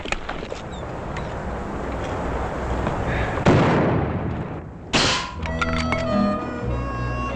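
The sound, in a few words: rifle shots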